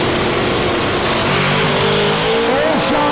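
Pickup truck drag racing on a no-prep strip at Newport Raceway: a loud engine roars and revs under steady crowd noise and an announcer talking over it.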